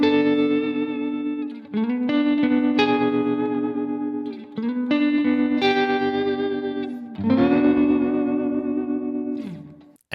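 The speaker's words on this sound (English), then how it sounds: "This is the Spring Reverb. This is called Spicy Spring." Electric guitar through an Eventide Spring Reverb plugin on the Spicy Spring preset, several sustained chords with a long, splashy spring tail and slight grit, played alone.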